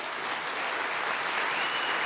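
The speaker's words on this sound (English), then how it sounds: "give a huge round of applause to Julie Hayden and the Academic Affairs crew who puts this together" Faculty convocation audience in a large hall gives a steady, even round of applause, a dense wash of clapping heard at moderate distance, with no speech.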